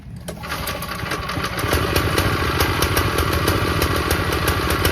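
Small motor mounted up top on a homemade wooden motorcycle built from hardware-store parts, running on a test ride: a loud, fast, rattling putter that revs up after the first couple of seconds and holds steady, close by, with no voices.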